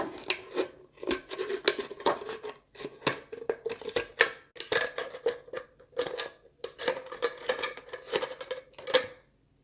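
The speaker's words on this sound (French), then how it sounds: "nous prenons le ciseau et nous coupons bien sur cette ligne" Scissors snip through a plastic bottle along a marked line in a rapid series of close, crisp cuts, with short pauses between bursts and no talking.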